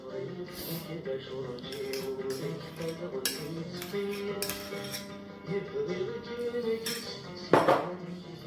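Soft butter going into a mixing bowl, with close clinks and scrapes of a utensil against the bowl, moderately quiet and ending in a sharper knock near the end.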